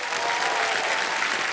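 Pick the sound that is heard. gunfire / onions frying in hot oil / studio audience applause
studio audience applause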